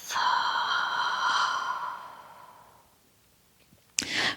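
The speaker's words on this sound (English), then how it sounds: "take a long, slow, deep breath in, and exhale fully from the mouth." A single long, deep breath followed by a full exhale through the mouth during a beginner core yoga workout, heard close and loud as a breathy sigh that fades out, followed by a brief rustle.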